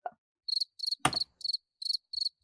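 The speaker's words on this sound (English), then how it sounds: "That's from Discord itself. Crickets." Cricket chirps from a Discord soundboard effect: several short, evenly spaced bursts of high chirping, clear and alone, with a single soft click near the start and a louder burst of noise about a second in.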